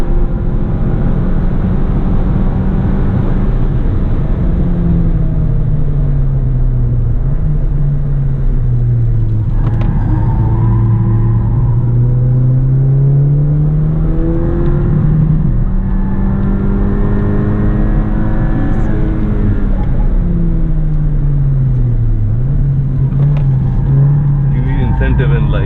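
A stock Porsche RS245 driven on the Buddh race track, its engine revving loud and close with rising and falling pitch through gear changes and corners, under steady wind and road rumble.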